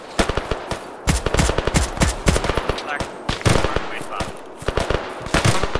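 Dense video-game gunfire from a team firefight rattles close and loud in rapid automatic bursts and single cracks, nearly continuous with brief gaps.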